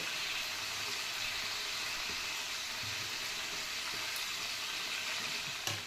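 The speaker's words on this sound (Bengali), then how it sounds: "তুলে নিয়ে এবার এই চোরটাকে একটু হালকা ভেজে নেব" Young jackfruit pieces fry lightly in hot oil, giving a steady, close, dense sizzle that holds evenly throughout with no talking.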